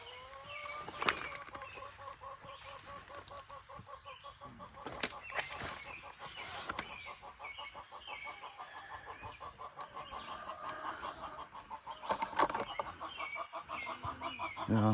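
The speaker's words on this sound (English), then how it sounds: "So don't mind the chickens." Several chickens cluck and squawk nearby in bursts, with a few sharper calls and some scuffling in between.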